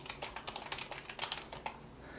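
Computer keyboard keys clicking in a quick, irregular run of taps while a skill name is edited in a ScriptableObject-based game skill system, close and clear with no voices.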